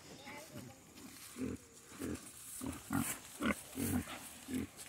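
Short, rough grunts from piglets being moved between paddocks come in bursts every half second or so, close by, over a low background murmur.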